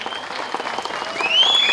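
An audience bursts into a brief round of steady applause for a birthday at a public event, dense clapping rising slightly toward the end.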